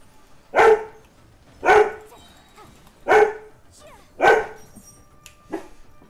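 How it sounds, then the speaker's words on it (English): A pet dog named Sky barking indoors: five loud, close barks spaced about a second apart, the last one softer. "Again, sorry about the dog."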